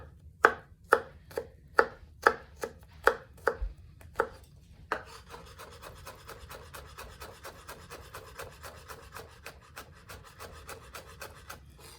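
Garlic crushed and then chopped with a knife on a board for boeuf bourguignon: about nine sharp, evenly spaced heavy thuds, followed by a rapid run of lighter, quicker chopping taps, close and clear with no talk.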